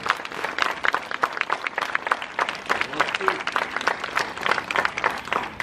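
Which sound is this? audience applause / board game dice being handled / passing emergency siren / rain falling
audience applause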